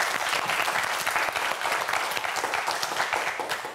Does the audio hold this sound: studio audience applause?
yes